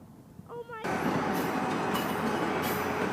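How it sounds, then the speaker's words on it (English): A train at North Station starts off with a sudden loud, broadband rumble after a brief tonal whistle-like sound, then a steady close-up roar continues. "And another train is leaving the station!"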